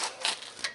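A torque wrench gives two quick, sharp clicks close by as it reaches torque on brake bolts of a 2007 Ford Explorer XLT.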